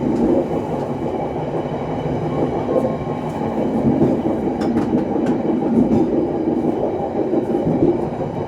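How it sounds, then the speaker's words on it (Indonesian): KA Bengawan passenger train from Pasar Senen running through Cikampek station without stopping: a steady, loud rumble of rolling wheels and rattling carriages, continuous throughout, with no voices. "Kita lewat aja ya teman-teman di stasiun Cikampek."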